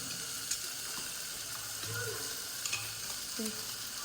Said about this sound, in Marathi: असा मसाला जोपर्यंत तेल सुटत नाही मसाला आणि तोपर्यंत परतायला